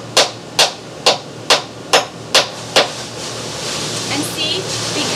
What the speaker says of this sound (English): and then I'm just going to hammer it